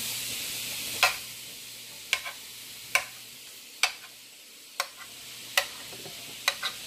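Pork chops sizzle softly in a pan under a steady hiss while about eight sharp, evenly spaced clicks and taps of a utensil ring out as they are turned.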